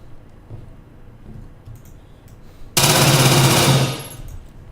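A sustained burst of automatic gunfire in the Arma 3 video game, a loud continuous stream of rapid shots after a quieter lead-in, ending abruptly.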